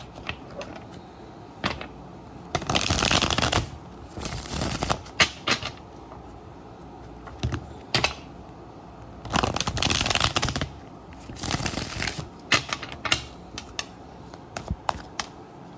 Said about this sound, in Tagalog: Balasahin muna natin ulit para alam natin na sobrang balasahin siya.